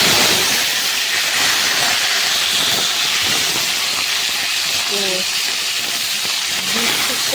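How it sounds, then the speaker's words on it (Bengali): Pieces of papaya and potato fry in hot oil with a loud, steady, close hiss that barely changes throughout, while a voice murmurs faintly underneath. "আগে পেঁপে আলুটা হালকা করে একটু ভেজে নিই"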